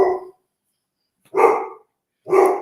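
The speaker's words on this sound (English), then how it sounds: "Nay, what we barking at?" A dog barks indoors at a home, three sharp, close barks spaced about a second apart with silence between them.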